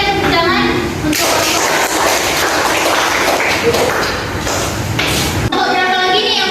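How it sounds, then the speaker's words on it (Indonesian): A classroom of students applauding a student group, a burst of dense clapping lasting several seconds, framed by a teacher's voice before and after. "berikan tepuk tangan untuk"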